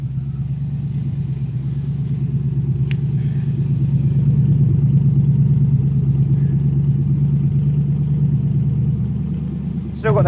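A TVR Chimaera 400 engine idles steadily up close with a low, even rumble, a faint click and brief noise at the end.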